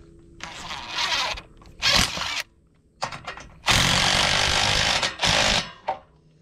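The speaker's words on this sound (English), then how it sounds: "we're gonna have Will drill in one of these" A power drill driving screws into new trailer bunks, running in several loud bursts of a few seconds each with short pauses between, close and alone.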